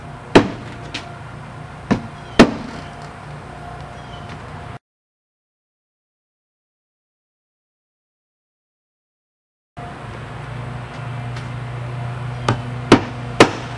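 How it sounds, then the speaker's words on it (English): Hammer blows nailing asphalt roof shingles on a roof: a few sharp, loud strikes at the start, a stretch of silence, then several more spaced strikes over low outdoor background noise. "Notice I'm nailing it right in the tab"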